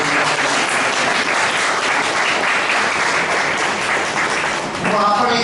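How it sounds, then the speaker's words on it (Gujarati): Sustained audience applause at an inaugural ceremony for a solo-acting competition in Surat, loud and dense, filling the hall steadily without a break. "એ લોકોને માટે આપણે તાળીઓના ગળગડાટ"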